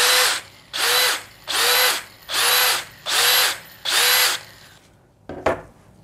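A DeWalt DCD805 cordless hammer drill runs at speed 2 in six even bursts of about half a second each, loud and close. A brief knock follows after a pause.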